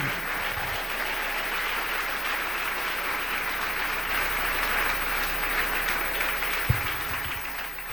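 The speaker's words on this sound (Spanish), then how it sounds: "Dele ese aplauso al Señor en esta noche." A church congregation claps in sustained applause during a service, a dense, even wash of hands lasting several seconds with a brief thump near the end and no speech.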